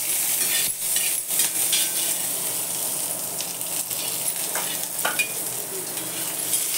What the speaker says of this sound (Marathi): त्यातच मिरच्या टाकते.